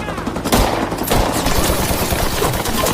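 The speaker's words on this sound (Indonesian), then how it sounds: "suara sunyi hutan pecah oleh deru tembakan" Rapid bursts of gunfire crackle loudly and continuously, a dense fusillade of shots with sharp onsets, close and harsh.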